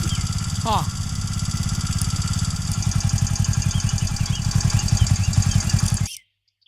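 A motorcycle engine putters steadily nearby, its throbbing rhythm growing louder before cutting off abruptly near the end; a voice briefly sounds early on.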